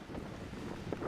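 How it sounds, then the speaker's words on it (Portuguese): Strong wind of about 50 km per hour at a hang gliding launch site in Sertão, buffeting the microphone as a continuous, fairly quiet roar with no one speaking. "só que vento de 50 km por hora"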